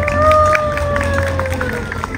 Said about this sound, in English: let's welcome them with your cheers and applause